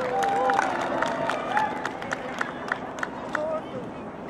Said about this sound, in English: a nice round of applause for this tremendous partnership we have with the Frog Pond